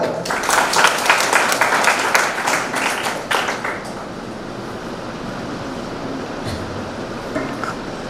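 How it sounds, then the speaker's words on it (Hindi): An audience at a college Hindi language fortnight closing event claps to welcome a performer, a burst of dense applause that fades after a few seconds into quiet room hiss with a few stray claps. "एक बार आप अपनी तालियों से उनका स्वागत करें"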